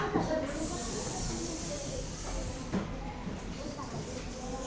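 A classroom of children hisses together in imitation of a snake, a continuous breathy hiss lasting the whole stretch with faint voices mixed in.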